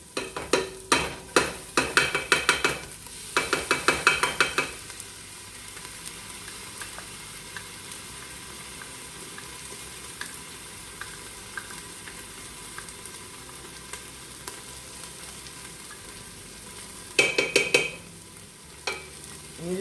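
Four garlic cloves frying in a pan: a soft, steady sizzle runs throughout, with bursts of scraping and stirring at the start and again near the end, close and alone without talk.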